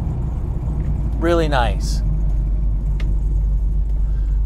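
A genuine 1966 Austin Mini Cooper, right-hand drive with a 1275 S engine and disc brakes, is driven along with a steady, close low engine rumble throughout while someone speaks briefly.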